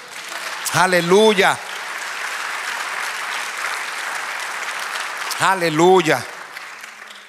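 A church congregation applauds in sustained, dense clapping, while a voice calls out twice over it near the start and end.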